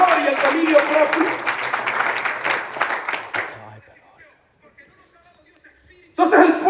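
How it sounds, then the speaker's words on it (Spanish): A church congregation claps loudly and steadily for several seconds, the applause fading away into near silence before a fresh burst of clapping starts near the end. "Denle un aplauso al Señor."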